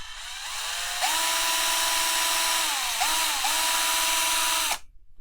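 Power drill boring into brass for a dual 18650 mod build, a high whining bit that starts after a second, dips briefly near the middle, then resumes before cutting off abruptly, close and alone.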